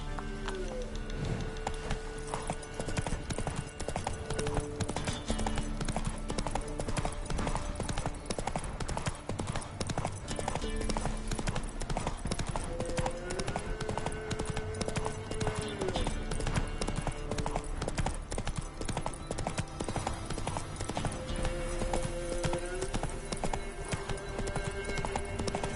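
Hooves of a galloping horse in The Witcher 3 beat in a fast, steady rhythm throughout, loud and close, with game music and ambient tones layered underneath.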